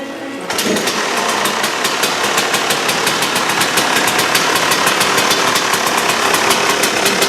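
A KTM motorcycle engine with a new reed valve idles steadily and loudly, a fast rattling two-stroke putter that starts abruptly after a brief moment and keeps an even rhythm throughout.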